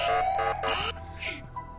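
An alarm siren in the horror game Ice Scream 4 gives short, loud, repeated electronic tones in quick succession, close and alone.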